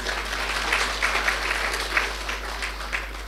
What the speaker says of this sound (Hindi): वेरी गुड, ताली बजाओ अपने लिए।